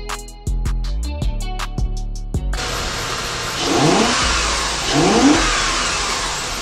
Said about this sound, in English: It bounces off rev limiter just like it should.